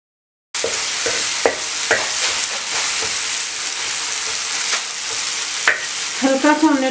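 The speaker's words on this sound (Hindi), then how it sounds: "इसको गरम करें और प्याज डालें। हल्का सा ही आपने इसको फ्राई करना होगा।" Onion frying in a little hot oil in a pan for an egg masala, a steady loud sizzle with occasional stirring clicks and scrapes, close and continuous without talk.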